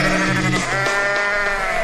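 A sheep bleats loudly and close by, a long wavering cry that fills the short moment on its own.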